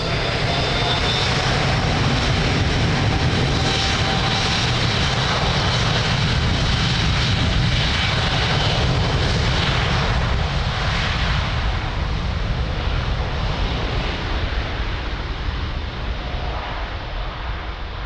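A jet airliner takes off from runway 02 at Lisbon Airport, a loud, continuous engine roar with broadband rumble and hiss that holds steady throughout and eases slightly toward the end.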